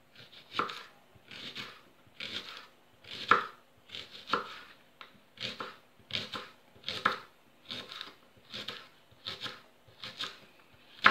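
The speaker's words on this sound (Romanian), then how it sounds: "Acum o să tăiem ceapa." A knife chops onions on a board for a potato and onion pie in an even, steady rhythm of about a dozen crisp, close cuts, each a short dull thud, with no voices.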